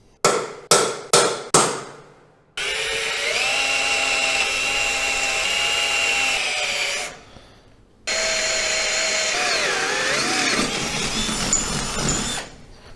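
Four sharp hammer taps, likely marking punches, then a power drill whines steadily through a trailer winch plate in two long close passes, the second pass wavering in pitch as the bit bites.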